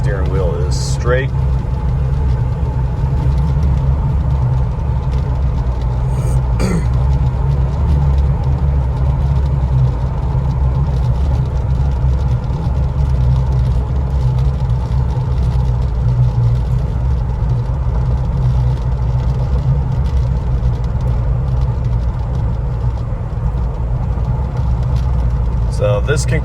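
Cabin sound of a 2016 Jeep Wrangler Unlimited cruising at 50 mph, a loud, steady low engine and road drone that holds unchanged throughout, with a couple of brief clicks.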